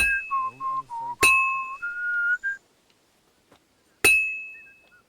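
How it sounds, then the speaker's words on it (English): Metal hammered at a blacksmith's anvil in the medieval game Kingdom Come Deliverance II gives two sharp, bright clinks spaced a few seconds apart, each ringing out slowly. Whistled, melodic tones run before the first strike and between the two. "I have to hammer it more evenly"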